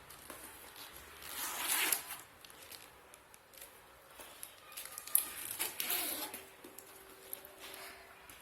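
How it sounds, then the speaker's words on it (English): Zipper on the top zip closure of a Caprese handbag, pulled in several short close rasping runs with quiet handling pauses between them, no voices. "It has top zip closure."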